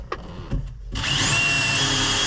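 After a few light knocks, a power drill drills a pilot hole, whirring up and running steadily at a loud, high pitch until the end.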